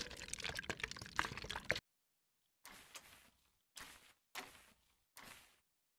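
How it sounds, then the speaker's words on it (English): Concrete being poured into a storage box in a building video game, an opening stretch of continuous pouring followed by silence and then four separate short pour bursts, quiet and with no voices. "Pop the lid maybe and then just pour it in?"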